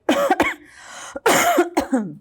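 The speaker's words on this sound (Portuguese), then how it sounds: "Uma tossida pro meu produtor" Two sharp, close coughs with a brief pause between them, loud and alone.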